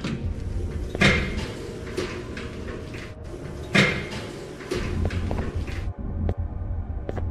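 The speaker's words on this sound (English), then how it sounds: "how interesting the doors open" Sliding doors in the mascot horror video game Shelter of Sursur open with whooshing mechanical swishes and thuds, twice, over a steady throbbing hum of ambient game music.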